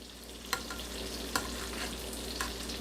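Ravioli stirred with a spoon in a pot, a steady bubbling hiss with a few sharp spoon clinks against the metal, close and alone.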